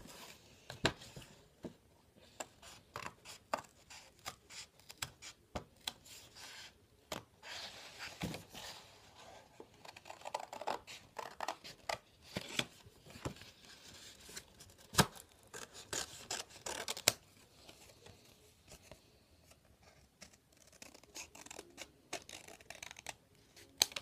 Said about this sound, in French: vous allez tout simplement découper tout autour de votre figure